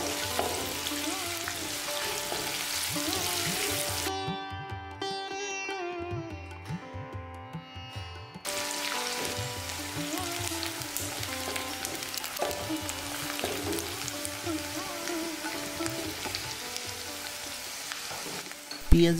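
Finely chopped onions fry in oil for a desi chicken and potato curry, a continuous dense sizzle. Background music plays over it, and the sizzle dips briefly partway through.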